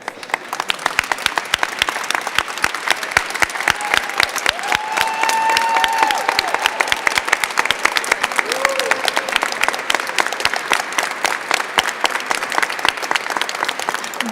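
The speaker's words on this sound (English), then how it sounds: "If everyone can stand up and give him a hand applause." Sustained applause from a large crowd at a San Francisco mayoral ordinance signing, dense steady clapping lasting throughout, with a few faint voices and whistles mixed in.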